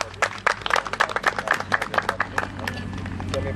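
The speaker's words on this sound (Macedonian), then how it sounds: "Аплауз еден." Audience applause at a national Macedonian shepherd dog (karaman) show: a dense, steady patter of many hands clapping together, moderately close, holding for a few seconds before thinning slightly toward the end.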